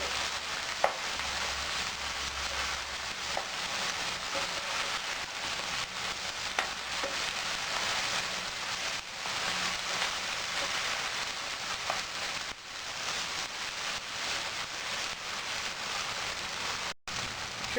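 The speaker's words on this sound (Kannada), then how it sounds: "ಇದಕ್ಕೆ ಶುಂಠಿ ಪೇಸ್ಟು, ಬೆಳ್ಳುಳ್ಳಿ ಪೇಸ್ಟು ಚೆನ್ನಾಗಿ ಫ್ರೈ ಆಗಲಿ" Ginger and garlic paste fries in a pan for biryani, giving a steady, moderately quiet sizzle with a soft rain-like hiss that runs unbroken and alone throughout.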